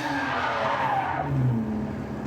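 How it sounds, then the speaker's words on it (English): Lamborghini Countach tires squealing through curves, a loud sustained skid over a steady engine drone, with no talk. "definitely warming up the tires on these curves"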